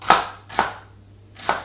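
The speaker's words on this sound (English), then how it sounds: "So I noticed you chop one onion one way and one the other way." A knife chops through onions in three crisp, separate strikes on a cutting board, each one a sharp thud, with no talking.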